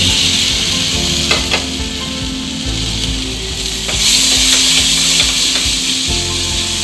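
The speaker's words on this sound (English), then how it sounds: "After this, I will add the fish and then saute it for 5 minutes." Bombil fish sautéing in a pan with Kashmiri red chili powder and other spices, giving a loud, steady, close sizzle with occasional scraping stir sounds throughout and no talking.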